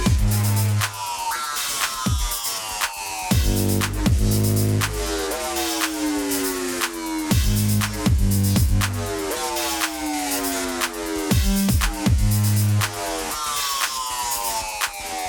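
Ableton's Electric electric piano is pushed through the Roar distortion device into a wild, alien crunk bass, grinding and buzzing with loud repeated sliding, pitch-swooping notes over a heavy low end in a continuous rhythmic pattern, no speech.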